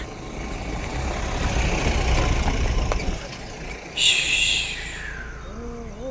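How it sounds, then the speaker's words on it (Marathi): A small tempo truck rumbling on a ghat road, its engine droning and idling low for several seconds, then a brief higher burst as the vehicle draws near. "टेम्पो आलेला आहे आमचा"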